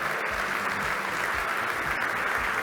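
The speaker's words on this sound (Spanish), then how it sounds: "pido un fuerte aplauso para todos los participantes" Conference audience at an insurance industry technology panel applauding the participants, a steady, even wash of many hands clapping throughout, moderately distant and without speech.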